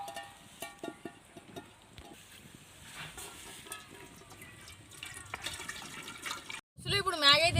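Water is poured into a pot for cooking Maggi noodles, making a running, splashing trickle with light stirring and sizzle, and a person talking over it toward the end.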